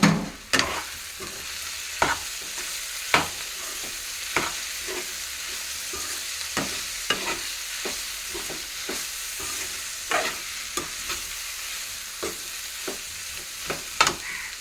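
Boiled, mashed potatoes stirred in a frying pan, a steady sizzle broken by sharp, irregular scrapes and clacks of a spoon against the pan, fairly close and without talk.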